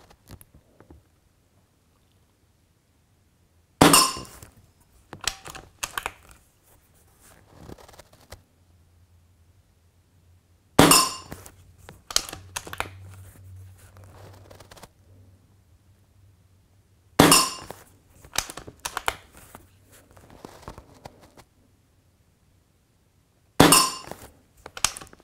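Air rifle shots from a First Strike Eagle Deluxe during the last magazine: four sharp, loud cracks spaced several seconds apart, each followed by brief clicks and handling rattles, with quiet stretches between.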